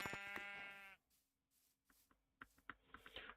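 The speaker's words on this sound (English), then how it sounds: "I hear another sheep." A single sheep bleats in the video game Minecraft, one clear wavering cry up close, followed by a few soft clicks and light shuffling sounds.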